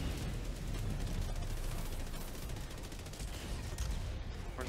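Enemy artillery fire rains down in the Helldivers 2 video game as a dense, continuous roar of blasts and rumbling impacts, loud and unbroken, with no voices.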